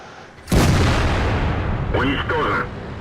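A single loud tank cannon shot firing gold shells in World of Tanks, a sudden heavy boom that rolls on with a rumbling tail, followed by a brief in-game voice or radio chatter.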